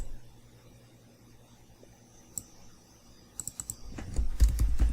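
Computer keyboard keys pressed for shortcuts, a few sparse clicks early, then a quick cluster of taps and heavier clacks near the end, close and clear against quiet room hiss.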